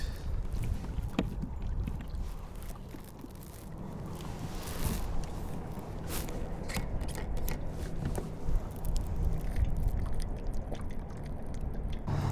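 Small fishing boat moving across a lake during bass fishing in Fort Collins, Colorado, a steady close rumble of motor and water wash with faint mechanical whirring throughout, no talk.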